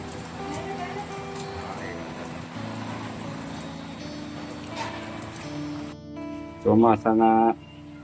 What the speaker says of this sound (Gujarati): આજ વરસાદ ડેમ આવી જાય વરસાદ હજી એવો ને એવો ચાલુ છે